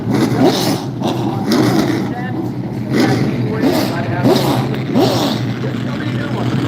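Pro late model race car engines roar and rev in waves during a 50-lap race, loud and close, passing repeatedly with rising and falling pitch.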